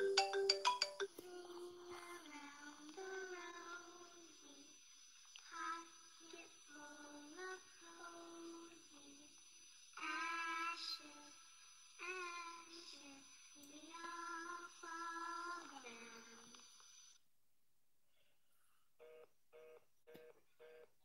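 A phone rings repeatedly in the horror video game I Am Innocent, a bright electronic ringtone in steady bursts with short pauses, fairly loud and close, then fading to faint tones near the end.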